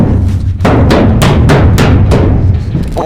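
Six loud, evenly spaced hammer blows ring out against a hollow steel shipping container under repair, each strike sharp and resonant over a low rumble.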